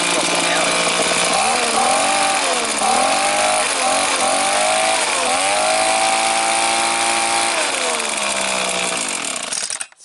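A Stihl string trimmer engine, freshly repaired, screams at full throttle close by, its pitch wavering up and down in repeated revs before cutting off abruptly at the end.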